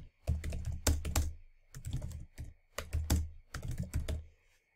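Typing a board name on a computer keyboard: rapid bursts of close, crisp key clicks in four quick clusters separated by short pauses, with no speech.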